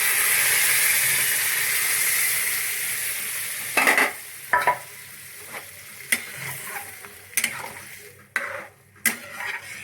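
Dal cooked with bottle gourd hits a hot pan and sizzles loudly in a hissing rush, then settles into quieter frying broken by sharp bursts of spatter and stirring scrapes, close up and without talk.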